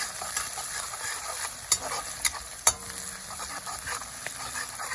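Garlic, ginger and chili frying in a pan for a mushroom curry, a steady low sizzle with a few sharp clinks of a spoon stirring against the pan.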